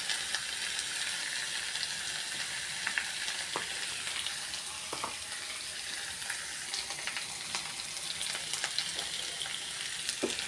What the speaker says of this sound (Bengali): আলুটা দিয়ে একটু ভেজে নিতে হবে।